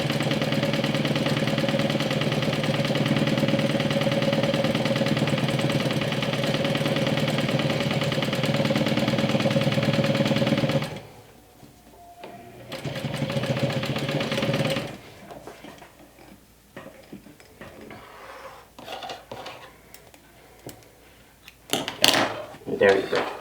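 A sewing machine hums in a steady, loud run while top stitching a bag at a longer stitch length, an eighth of an inch from the edge. It stops after about ten seconds, then restarts in shorter bursts with pauses between them.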